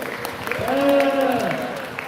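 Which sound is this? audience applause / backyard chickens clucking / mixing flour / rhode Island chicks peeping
audience applause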